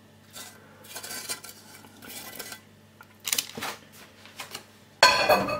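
Marzipan mixture being spread in a saucepan, with soft scraping and stirring strokes of a utensil against the pan, irregular and close, ending in a louder clatter.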